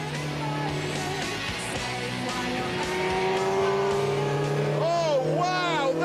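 A Mini's engine revs hard at speed, a loud, rising, sustained roar with gear changes and climbing pitch sweeps near the end, while someone talks over it.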